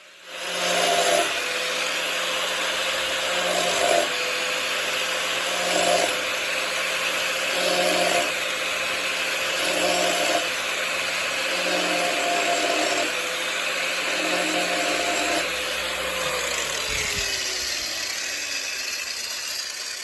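A Chinese elm wooden bowl being sanded on a lathe gives a steady, loud abrasive whir with a motor hum underneath, holding evenly throughout with a few soft pulses and a drop near the end.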